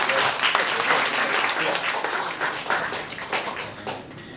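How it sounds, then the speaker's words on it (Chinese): A church congregation at a baptism service claps together in a burst of dense, lively applause that stays fairly even, then gradually thins and fades over a few seconds. "我们大家可以拍手。"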